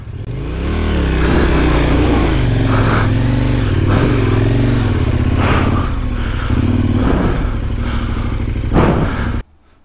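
A motorcycle engine revs loudly and continuously up close as it works to roll the front wheel through mud, its note rising and falling with rough clattering, then cutting off abruptly at the end.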